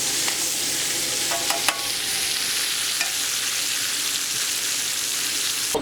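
Beef browning in a hot frying pan, giving a steady bright sizzle with a few sharp crackles and spits near the start, close up and without talk.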